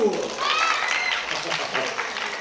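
Audience applause at a children's ensemble concert, brief and fairly loud clapping mixed with voices and a speaking voice over it.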